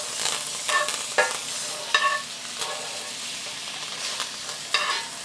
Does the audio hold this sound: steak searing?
yes